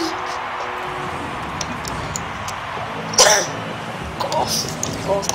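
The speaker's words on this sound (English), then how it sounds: "Cough." A single sharp cough bursts out amid Rocket League gameplay sounds, followed by a few smaller throaty noises, close to the microphone over a steady background hum.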